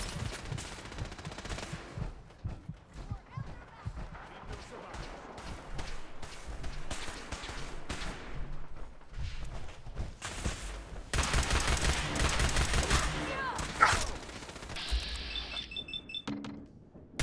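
Rapid automatic gunfire in a wasteland survival video game crackles in repeated bursts, getting louder and denser toward the end, with no talk over it.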